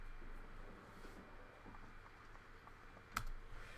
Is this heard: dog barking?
no